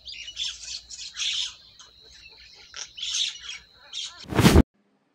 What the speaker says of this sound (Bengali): এটি হলো ময়না